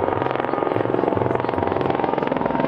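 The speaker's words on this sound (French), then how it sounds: "L'hélicoptère que vous venez voir, c'est pas juste un hélicoptère de secours de police. C'est les hélicoptères que tu payes." A tourist helicopter flies over Las Vegas, its rotor producing a loud, close, continuous rhythmic chop over a steady engine whine.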